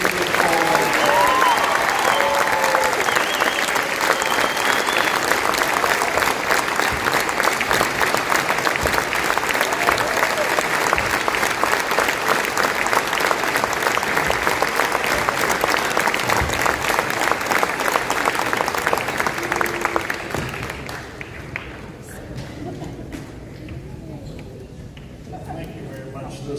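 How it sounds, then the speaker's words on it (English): A school and community audience gives a long, loud round of applause honoring Coach Paul Wayne and his 2004 state championship team, steady and dense for about twenty seconds before fading to quieter scattered clapping. "One more round of applause and appreciation for this all."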